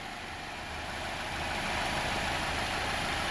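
A truck engine idles steadily just after an oil change, a continuous low rumble with broad hiss holding at an even, fairly loud level and rising slightly partway through, with no talking.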